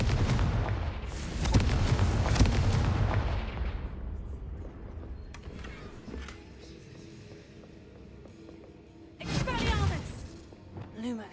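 Confringo blasting spells in Hogwarts Legacy: heavy booming explosions with rumbling tails, one long burst of blasts at the start, a quieter lull, then another loud blast near the end.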